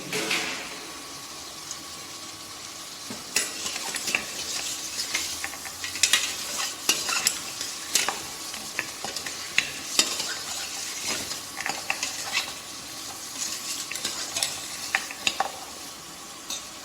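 Bay leaf and peppercorns go into a sizzling stew pot, with a steady frying hiss and repeated scraping stirs and metal clinks against the pot, close and fairly quiet.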